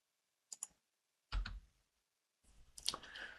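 A computer mouse clicks in a few short, close, distinct bursts separated by quiet gaps, with no voices.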